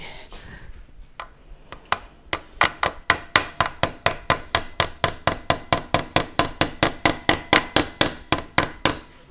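Metal parts are hammered while a Honda Vario 110 scooter shock absorber is installed: sharp, evenly spaced strikes, close and loud, quickening into a steady run of about thirty blows with no talk.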